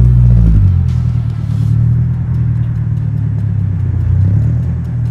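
A 2022 Subaru WRX drives along with a loud, low engine rumble and road drone from inside the cabin, steady with slight swells in revs.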